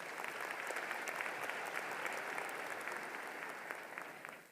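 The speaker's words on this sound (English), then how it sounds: "Board of Trustees members. Let's give them a round of applause" An audience at a university commencement ceremony applauds Board of Trustees members, with steady, dense clapping from a large crowd heard at a distance that slowly tapers off toward the end.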